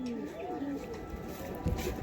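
Giribaz pigeons cooing in a loft, soft low repeated coos close by amid background voices and rustle.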